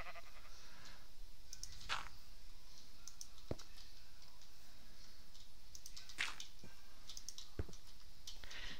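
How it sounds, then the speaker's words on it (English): Video-game sheep bleats, a few short nasal calls spaced irregularly over quiet background, with faint clicks between them. "Did they shear one of my sheep just to do that?"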